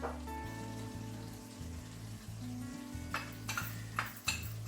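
A spoon stirs courgette curry with salt and curry powder in a pan, making soft scraping and light sizzling sounds with a few sharper clinks near the end, quiet and close, with no talking.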